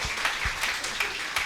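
Warm applause from a Spanish-speaking university gathering, a steady dense patter of many hands clapping at moderate distance with a few sharper individual claps poking through.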